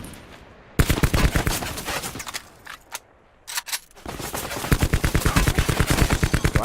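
Rapid automatic gunfire in Call of Duty: Black Ops 4 Blackout, loud close bursts with short pauses and a few isolated shots between them.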